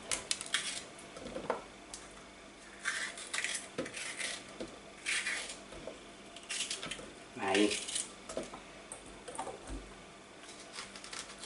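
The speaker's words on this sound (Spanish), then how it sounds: "Esto lo cortamos así a trocitos" A knife chops vegetables into large chunks on a board for a basic sofrito of tomato, onion and pepper, giving scattered knocks and clatters, some louder, over a faint room hum with no talk.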